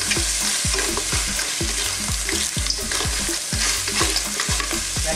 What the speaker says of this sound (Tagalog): Haluin na po natin ito mga ilang minuto.